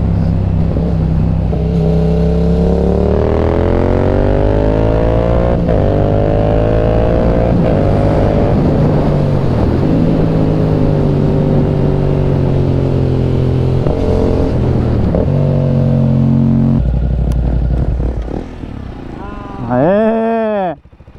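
A Sur-Ron Light Bee X electric dirt bike ridden hard on a stony track, giving a loud, steady whine that rises and falls in pitch with speed, close to the microphone, with a voice briefly heard at the end.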